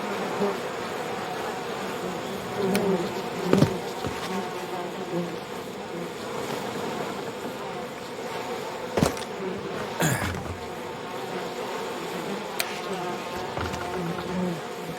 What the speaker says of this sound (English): Because holy crap, that's a lot of bees.